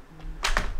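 Two quick keypresses on a computer keyboard as a code is entered to pair it with an Android phone, crisp close clicks over a low hum with no talking.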